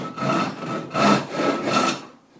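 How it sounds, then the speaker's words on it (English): A rip saw cuts along the grain of a wooden board in rhythmic, rasping strokes, about five close, fairly loud pushes and pulls in a steady back-and-forth pattern, with no voices. "So a rip saw cuts like this."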